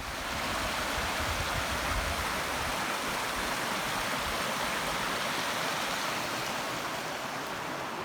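Steady rushing water roars without pause, a dense broadband wash of a river spilling over small waterfalls along a hiking trail near Navaho Pass, close and loud.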